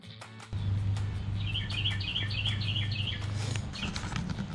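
A bird chirping in quick repeated high twitters, a rapid series of close calls over a steady low hum.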